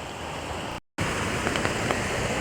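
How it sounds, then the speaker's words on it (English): Light rain patters steadily on a hammock tarp during a night of bush camping, a dense even hiss with faint individual drops, broken by a brief cut near the start. "there's just a light sprinkle of rain pittering down on the tarp"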